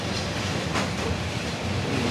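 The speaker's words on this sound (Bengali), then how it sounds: "আমি এখন আছি ট্রেনের লাস্ট বগিতে" Passenger train running on rails from Dhaka to Sylhet, heard from inside the last coach: a loud, constant rumbling roar with a faint clickety-clack rhythm and no voices.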